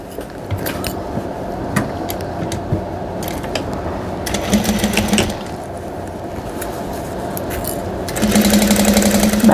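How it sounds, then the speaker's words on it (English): A sewing machine stitches a tote bag seam at 3/8 inch, its needle running in steady mechanical rattling bursts with short pauses between runs and a faster, louder stretch near the end. "I'm going to sew this at 3/8 of an inch."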